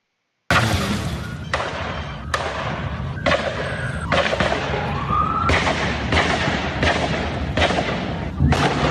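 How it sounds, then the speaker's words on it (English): SKS 7.62 rifle gunfire, a string of about nine loud sharp shots at fairly even, slightly irregular intervals, each with a ringing reverberant decay over a continuous background. "That's the sound of the rifle used by the Bernie Sanders supporter"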